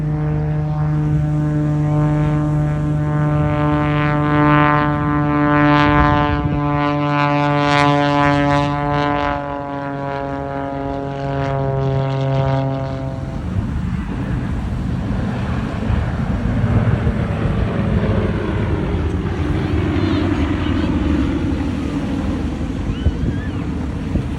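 An aerobatic aircraft displaying at the Bournemouth Air Festival, its loud propeller engine drone rising and falling in pitch through a turn and over the top, then fading into a rougher, more distant roar with faint commentary.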